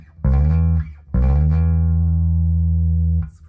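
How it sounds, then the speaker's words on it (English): An unamplified Fender Player Precision bass rings out two deep plucked notes, the first short and the second held for about two seconds before fading, close and alone. "It was interesting playing this one after playing the new bass."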